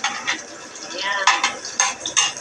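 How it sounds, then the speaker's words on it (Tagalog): Garlic and onion sauté in a hot pan, with scraping stirs and crackling bursts recurring in an uneven rhythm, close and fairly loud. "Nag-igisa na tayo."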